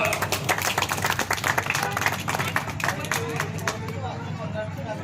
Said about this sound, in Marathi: आता द्वितीय पारितोषिक जोरदार टाळ्या वाजवा